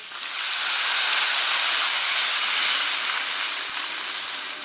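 Water poured into a hot iron wok holding a large duck, bursting into a loud, close, continuous steam hiss that swells quickly and then slowly fades.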